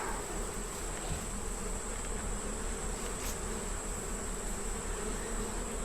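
A swarm of honeybees buzzes overhead in a tree near a beehive, a steady dense hum that carries through the whole stretch at even loudness with a faint high whine above it.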